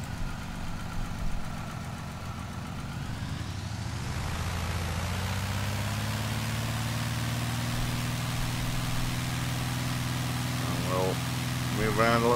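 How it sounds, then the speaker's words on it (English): A Cessna 170B propeller engine idles in Microsoft Flight Simulator with a low, steady throb that shifts in pitch partway through as the view moves, continuous and fairly close. "you can hear what the engine sounds like"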